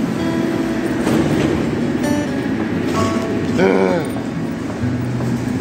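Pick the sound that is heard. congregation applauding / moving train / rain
moving train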